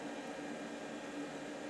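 An electric fan runs in a room, giving a faint, steady broadband whoosh with no talking over it.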